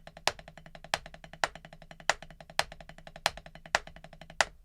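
A drum pattern merges five- and seven-stroke groupings into a twelve-note triplet rhythm, with sharp accented hits recurring regularly over quieter rapid strokes, played solo and close.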